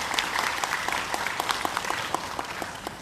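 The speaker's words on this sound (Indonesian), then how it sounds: "Maka kita perlu berbangga dan tepuk tangan sekali lagi." An audience claps during a certification ceremony in an indoor hall, a steady patter of many hands at moderate distance for a few seconds, with no talking over it.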